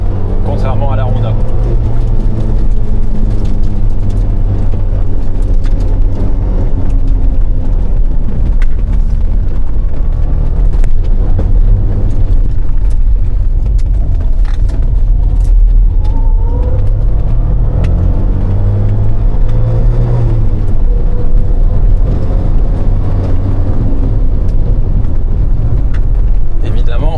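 Suzuki Cappuccino engine idling and revving after renovation from flood damage; a loud, close, continuous rumble with rising and falling revs, while someone talks over it throughout.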